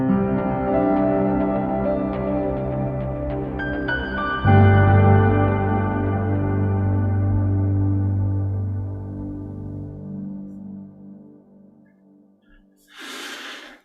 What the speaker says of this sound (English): here's just an example that's piano, a bit of synth bass, and then just the reverb